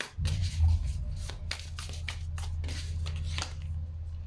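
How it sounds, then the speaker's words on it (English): Tarot cards being shuffled by hand, a run of close papery riffles and flicks over a low steady hum. "I'm going to go ahead and shuffle live some cards from the Muse Tarot for you"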